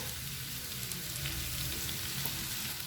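Curry leaves, ginger and garlic fry in a pan for a curry, giving a steady, close, even sizzle with faint crackle throughout and no speech.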